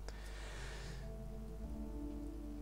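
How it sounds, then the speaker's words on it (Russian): Rain falls in the survival video game Sheltered as a soft, steady patter, faint and continuous, over a low hum in the background. "Дождь довольно такой затяжной,"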